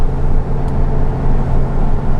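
A vintage air-cooled VW Beetle engine runs with its cooling fan, a loud, close, low throbbing drone that holds steady through the short stretch.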